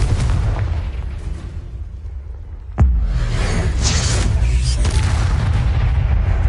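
A Confringo blasting spell erupts in Hogwarts Legacy, a sharp crack followed by a heavy, rumbling explosive burst that lingers and rolls on over a noisy game backdrop.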